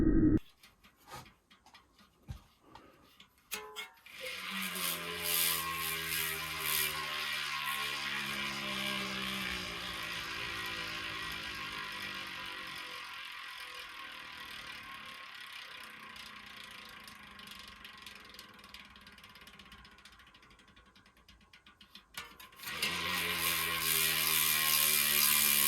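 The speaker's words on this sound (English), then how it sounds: "DT Swiss 240 Freehub sound." A DT Swiss 240 bicycle freehub ratchets with a fast, dense buzzing click as the wheel spins freely, loud and close, slowing and easing off before picking up again, with no talk.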